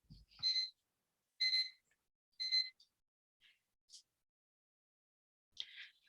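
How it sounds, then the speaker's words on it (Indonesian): A bedside alarm clock rings in a quiet room, giving three bright, even beeping bursts about a second apart, then a few shorter fainter chirps and a final softer burst, with no talk over it. "Kedengeran ya itu suara alarm ya?"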